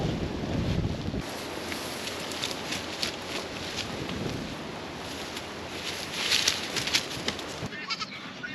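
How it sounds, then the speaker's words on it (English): Wind rushes steadily past a greenhouse with shade cloth, a broad continuous hiss with swelling gusts and some flapping, fairly loud and close to the microphone, with no talk. "See, it's too windy for those shade cloth."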